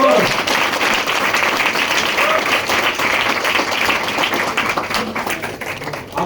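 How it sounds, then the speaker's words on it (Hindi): Loud, dense audience applause at a Vestige branch office gathering in Borivali, Mumbai, continuous clapping for about six seconds with a voice briefly heard over it. "एक बार जोरदार तालियां"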